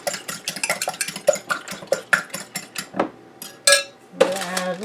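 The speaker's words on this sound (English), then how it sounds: "I'm going to take a fork and beat up the eggs a little bit." A fork beats eggs in a bowl for a breakfast casserole: quick, rhythmic clinks and taps close up, with a few louder scrapes near the end.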